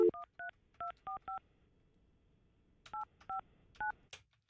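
Telephone keypad dialing tones beep in two quick bursts of short, evenly spaced tones with a pause between groups. They are clear and close over a quiet background.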